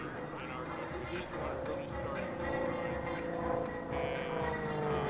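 A Pitts S-1 aerobatic airplane flying a hammerhead turnaround at an air show, its engine a distant, droning hum that swells slightly toward the end, with an announcer talking over it.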